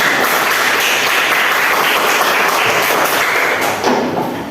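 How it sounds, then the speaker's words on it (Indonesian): An indoor group session breaks into loud, dense applause as group 1 comes forward, many hands clapping continuously for about four seconds before tapering off slightly at the end. "Kita kasih aplaus untuk maju ke depan"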